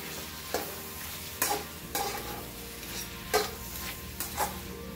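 A spoon stirs mixed vegetables with aubergine and potato in a pan, scraping strokes at irregular intervals over a steady frying sizzle, close and fairly loud with no talk.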